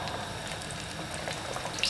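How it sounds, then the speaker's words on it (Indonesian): Fish frying in hot oil gives a steady, fairly quiet sizzle and crackle with small pops throughout. "Ini minyaknya sudah panas. Saya goreng ikannya seperti biasa ya."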